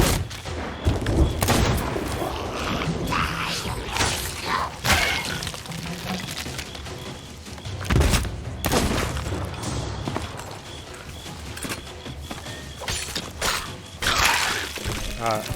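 Ship cannons fire repeatedly on a pirate vessel at sea in Sea of Thieves. Loud irregular booms with crackling debris are spread through the clip, and excited Italian voices talk between and over the blasts.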